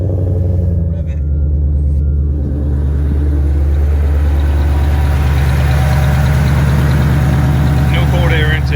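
A Shelby GT500 V8 rumbles loudly up close with the hood open, its deep idle swelling into revs and settling back, steady and heavy throughout.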